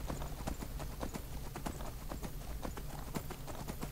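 Horse hooves clip-clop steadily in Skyrim, a rapid, even rhythm of sharp hoof strikes over low ambient rumble, close and continuous without speech.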